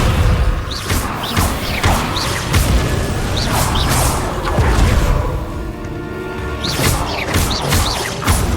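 Descendo spell cast in the Hogwarts Legacy video game: loud, dense magical crashes, thuds and swooshing bursts repeat rapidly over a continuous rumbling game backdrop.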